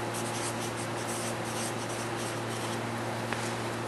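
Pen or pencil scratching across paper while an accounting entry is written out, a steady close, quiet rubbing scrawl that runs without pause and without any voice.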